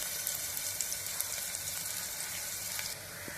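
A continuous, soft sizzle of chopped onion frying in hot oil in a pressure cooker, steady and close, with a few faint clicks and a slight drop in intensity near the end.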